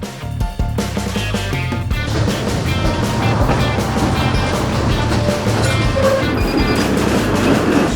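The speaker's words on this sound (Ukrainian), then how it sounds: "Зараз ми знаходимося у 20-му трамваї, вирушаємо з кінцевої зупинки біля Херсонського скверу і їдемо до Ходжебецького лиману" Odesa tram number 20 rolls along its route from Khersonskyi Square toward Khadzhibey estuary, a steady loud rumble with rhythmic clacking over rail joints, heard from inside the car without talk.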